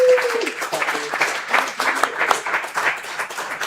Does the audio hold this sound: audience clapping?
yes